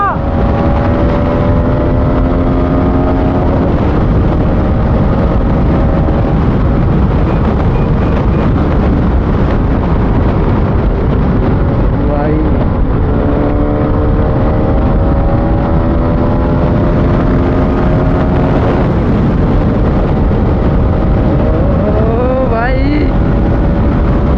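Motorcycles drag racing, including an RS200, a Scrambler 411cc and an MT, with engines roaring loudly and steadily close by and rising and falling revs over continuous wind rush.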